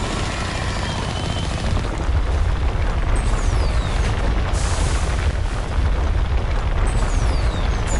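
Rocket explosions from a Mass Effect firefight, a dense continuous roar of blasts and rumbling booms with a sharp burst near the middle, loud and close throughout with no talk.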